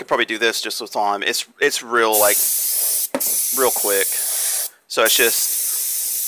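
Airbrush spraying a light mist of paint on an artificial pintail duck head, heard as a close, steady hiss in bursts between stretches of someone talking.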